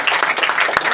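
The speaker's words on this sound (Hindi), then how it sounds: "जोरदार ताली बजाएं" A church congregation applauds, a dense burst of clapping from many hands lasting about a second, close and fairly loud, with a sharp single clap standing out near the end.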